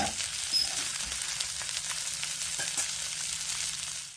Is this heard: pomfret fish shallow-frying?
yes